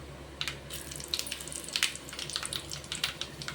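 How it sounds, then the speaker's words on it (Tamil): Mustard seeds spluttering and popping in hot oil in a home Tamil kitchen while cooking sirukeerai kadayal, a faint scatter of crackles and sizzling over a low background hum. "கடுகு பொரிஞ்சதும்"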